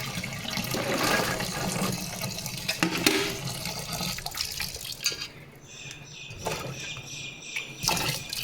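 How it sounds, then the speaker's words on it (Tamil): Peanuts are washed in water, with splashing and running-tap sounds, swishing and trickling that rise and fall in uneven bursts, close by and without speech. "ஸ்நாக்ஸுக்கு இப்போது வேர்க்கடலை வந்து கழுவி வேக வைக்கணும்."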